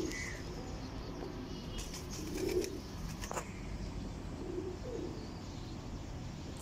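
Desi pigeons coo softly in a low, burbling murmur, a few faint calls rising from steady background noise with brief rustles, no one speaking.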